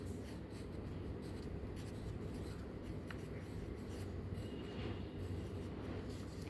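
Chalk or pen scratching steadily as a teacher writes out a Class 2 Hindi lesson, a continuous dense rubbing texture at moderate level with no clear pauses and no talking.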